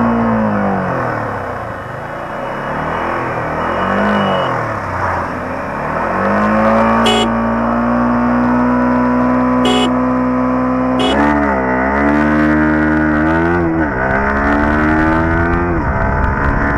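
A 60th Anniversary Edition Yamaha R15 motorcycle accelerates at full throttle, its engine note climbing sharply through successive gears with brief dips at each shift, loud and close throughout.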